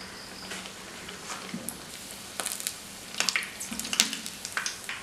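Oats vada frying in hot oil gives off a soft, steady sizzle with scattered crackles and pops, quiet and close, with no talking.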